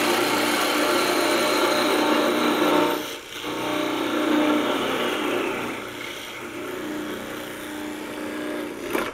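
A wood lathe spins a turned wooden box while a parting tool cuts it off, giving a steady, fairly quiet whirring scrape with brief dips where the cut eases, alone without talk.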